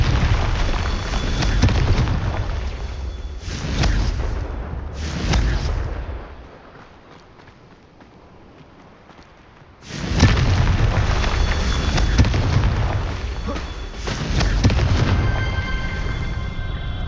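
The Confringo explosive spell in the video game Hogwarts Legacy sets off loud, booming explosions in two long roaring bursts, split by a short quiet gap.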